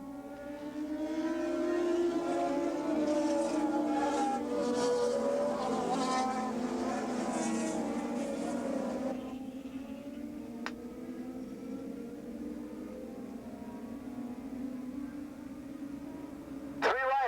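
Racing motorcycles in a Super Street race at Willow Springs Raceway pass by, a sustained engine drone that rises and falls as the pack goes through, then fades to a lower steady hum with a brief high whine near the end.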